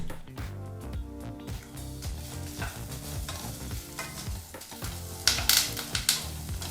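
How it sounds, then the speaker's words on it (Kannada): Byadagi chillies and spices fry in a tablespoon of oil on a medium flame, giving a steady sizzle, with music and a few louder stirring scrapes near the end. "ಈಗ 4 ರಿಂದ 5 ನಿಮಿಷ ಮೀಡಿಯಂ ಫ್ಲೇಮ್ನಲ್ಲೇ ಈ ಪದಾರ್ಥನೆಲ್ಲ ಹುರ್ಕೋಬೇಕಾಗತ್ತೆ."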